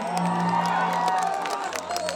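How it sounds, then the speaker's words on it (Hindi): A crowd cheers for Khesari Lal Yadav at a Holi show at Shangrila Resort in Patna, with loud, continuous whooping and clapping mixed with shouting voices. "खेसारी भैया के लिए जोरदार तालियां हो जाए"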